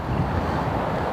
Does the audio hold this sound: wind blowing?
yes